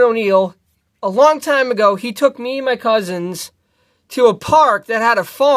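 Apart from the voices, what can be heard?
No distinct noise like a dog, phone or traffic.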